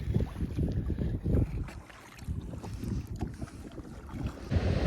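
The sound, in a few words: strong wind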